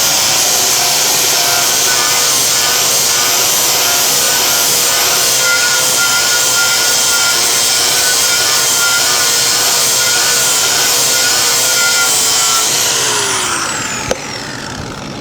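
A power grinder works steadily on a Chevelle car frame during restoration, giving a loud, sustained high whine with a harsh abrasive hiss. Near the end it winds down and cuts off.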